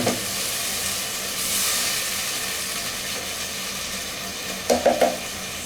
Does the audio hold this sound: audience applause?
no